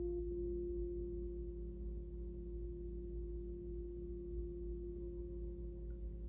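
A singing bowl rings with a steady, sustained tone and faint overtones during a quiet meditation session. The hum is soft and continuous, with no voices over it.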